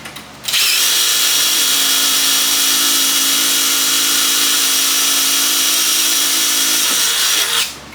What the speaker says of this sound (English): Just going to drill out the center.